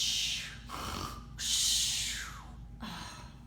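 Snoring from a cartoon character sleeping afloat on water under a bridge, three long rasping breaths with pauses between, fairly close and alone with no talk.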